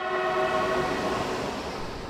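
A Jakarta-Bandung high-speed train passes close by, sounding a loud, steady multi-tone horn over a continuous rushing roar of rail noise, with the horn fading partway through.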